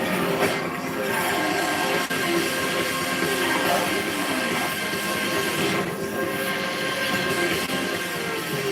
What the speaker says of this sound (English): Train crossing.